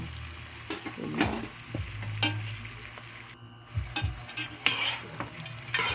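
Shrimp frying in a pan while being stirred, with a steady close sizzle broken by scraping and clinking spatula strokes at irregular intervals, and no talking.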